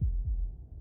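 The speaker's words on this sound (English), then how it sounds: "That was the sound of a heartbeat" A low, muffled heartbeat from the video game Slay the Princess, with one deep double thump at the start and then a fading low rumble, no voices present.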